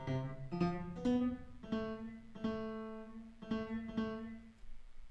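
Software piano notes with an odd echo, struck about twice a second in a steady rhythm, each note ringing out with repeating harmonics; quiet and alone, no talking.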